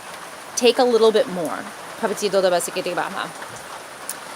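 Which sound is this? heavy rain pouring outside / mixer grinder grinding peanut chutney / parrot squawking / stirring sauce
heavy rain pouring outside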